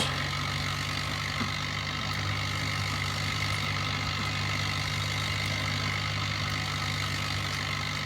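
A tractor engine in a video game hums at a steady idle, a constant low drone with a tonal whine that stays even and unbroken throughout.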